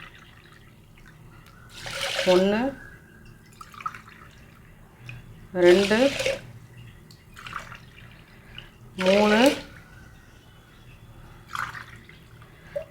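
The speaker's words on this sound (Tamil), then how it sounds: "நம்ம அரிசி எடுத்த அதே இதால் நாலு டம்ளர் தண்ணி ஊற்றுறேன்" Three separate pours of water from a tumbler splash into rice for ven pongal, each rising in pitch as the pot fills. A voice counts aloud between the pours.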